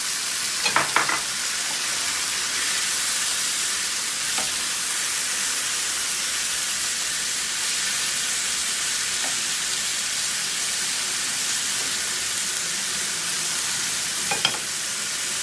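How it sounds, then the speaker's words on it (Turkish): Tomatoes poured into a pan of caramelized peppers for a saucy chicken dish, frying with a steady hiss and a few brief stirring scrapes, alone and fairly close. "Tam bu aşamada domatesleri döküyoruz"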